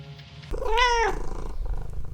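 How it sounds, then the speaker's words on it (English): A single drawn-out cat meow rises and falls over about half a second, close and clear, after which a quiet low background hum continues. "At her feet stood Indus, the malicious and orange cat who'd become Ellie's friend."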